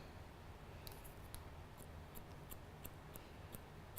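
Scissors snipping a little off the front of a client's hair during a haircut, giving a string of crisp, close metallic snips at a steady pace over a low, hissy background.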